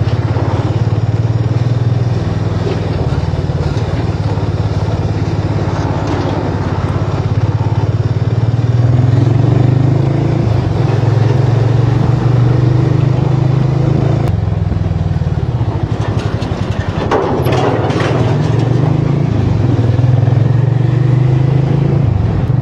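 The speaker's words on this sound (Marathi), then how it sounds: "ते समोरून गाड्या वगैरे येत आहेत" Road traffic roars past from the opposite direction on a rough road near Kharpada, with trucks and motorbikes in a continuous loud engine rumble and clattering from the moving vehicle.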